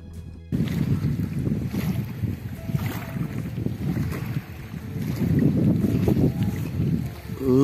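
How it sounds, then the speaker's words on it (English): Breezy wind buffeting a microphone on an afternoon drive in Suriname, a steady low rushing roar that swells and fades, close and loud, with no speech. "Not so hot today, it's very breezy."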